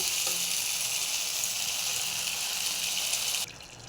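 A splash of water hits a paneer curry frying in oil, giving a loud, steady hiss and sizzle that cuts off abruptly and leaves a quieter simmer.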